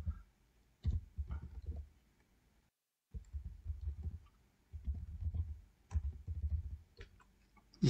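Computer mouse clicking while an email account is set up, a handful of sharp, close clicks in short clusters spread across a quiet desk background, with no talking.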